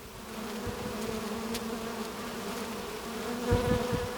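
Honeybees from a 3 lb package swarm and drone in a steady, dense buzz while being installed into a hive, with occasional louder bursts as bees fly close by.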